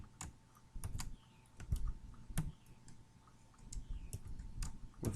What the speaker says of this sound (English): Now in the interval box, we need to type in int